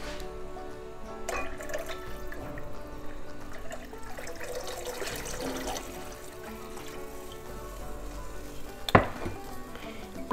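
About five cups of water pour into a soup pot on the stove, a continuous splashing gush running steadily for several seconds at close range, ending with a sharp clatter near the finish.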